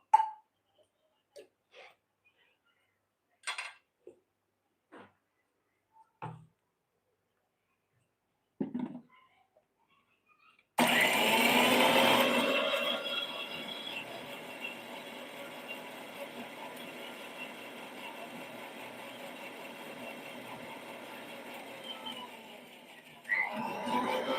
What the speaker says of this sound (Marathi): वायच पाणी घालूया आणि ह्या मिक्सरला वाटून घेऊया